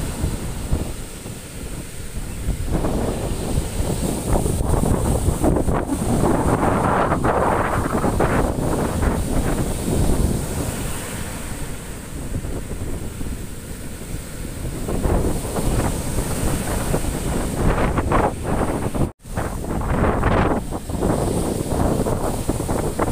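Strong typhoon wind buffets the microphone on the shore of Sibay Island while waves surge and crash, a loud rough roar that swells and eases in gusts, with one brief dropout near the end.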